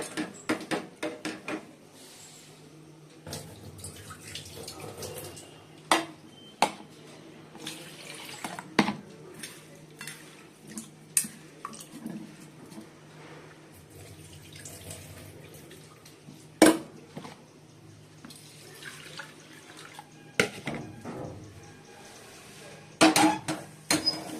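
Something is rinsed under a running kitchen tap in a home kitchen, with a steady hiss of flowing water. Sharp clinks of dishes and utensils break in now and then, some loud and close.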